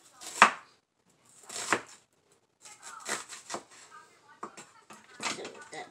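Knife cutting vegetables (mushroom, onion) for a veggie omelette, done left-handed with a fractured arm: two distinct chops, then a run of lighter, irregular cuts on a board, close and moderately loud.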